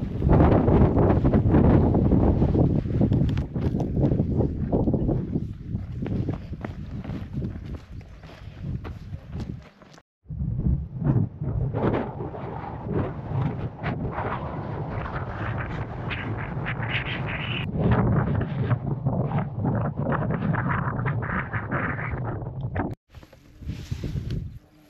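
Strong gusting wind buffets the microphone on an exposed mountain edge in the Brecon Beacons, a loud continuous roar that surges and briefly drops out before returning.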